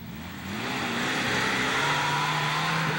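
A Lada Niva's engine grows louder as the car drives down a slope, a steady, rising motor drone close by with no talk over it.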